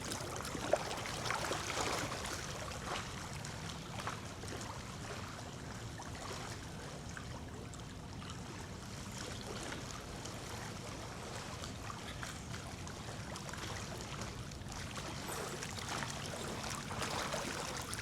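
A swimmer doing breaststroke: a steady, continuous wash of splashing and rushing water throughout, fairly loud and even, with no voices.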